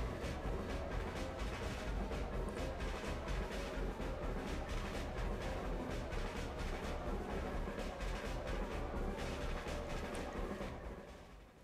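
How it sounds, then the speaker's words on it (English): Dark, dramatic circus-style chase music for The Clown killer in the horror game Dead by Daylight plays loud and continuous throughout, with dense layered instrumentation and a steady pulsing rhythm, fading slightly at the very end. "it actually has like this dramatic music which sounds like a dark dramatic circus type of music"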